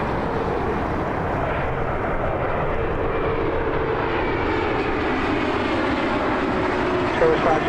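A fixed-wing airplane rolls on takeoff from runway 23 at Toronto Pearson Airport, its engines making a continuous broad roar heard from a distance.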